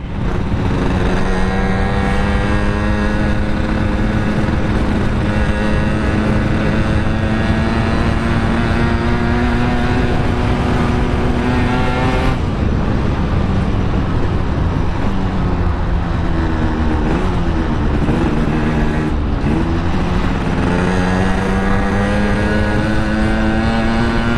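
A motorcycle that has stalled after a tire change is revved hard. The engine note repeatedly climbs and drops in long, loud, close sweeps with no talk over it.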